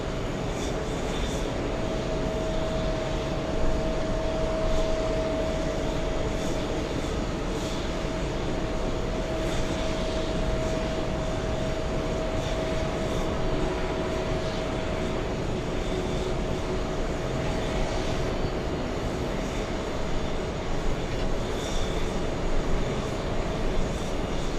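A Neos airliner from Milan at the airport, a constant loud broadband jet engine roar with a faint steady whine, sustained throughout without talk.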